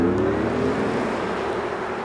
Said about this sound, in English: even the engine noise that makes at low speeds, that kind of futuristic whir